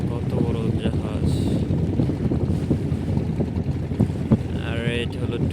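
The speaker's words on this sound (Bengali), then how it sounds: "এটা তেলের জাহাজ। দেখেন কত বড় জাহাজ।" Large oil tanker ship on the Pasur river near Mongla, a low engine rumble mixed with wind buffeting and water noise, with voices talking intermittently over it.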